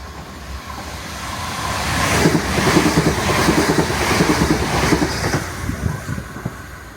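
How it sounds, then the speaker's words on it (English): A Gatwick Express Class 387 electric multiple-unit train rumbles through Hedge End station at close range, its steady roar rising and holding for several seconds with rhythmic wheel clatter, then easing slightly toward the end. "that Gatwick Express Class 387 electric multi-unit passing through Hedge End station"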